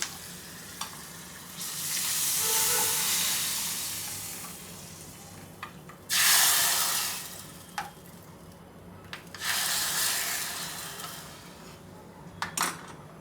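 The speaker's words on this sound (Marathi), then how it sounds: "यावरती फोडणी द्यायची" Hot tempering (phodni) poured onto boiling tomato saar, three loud bursts of sizzling hiss that swell and fade, separated by quieter stretches with clinks of a spoon against the pot; no talking.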